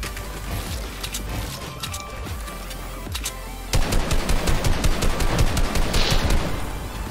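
Loud, close bursts of automatic gunfire in a video game, continuous rattling volleys that grow heavier and more intense halfway through.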